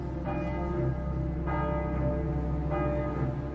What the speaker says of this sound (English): the bells of this church, Saint-Germain-l'Auxerrois, rang out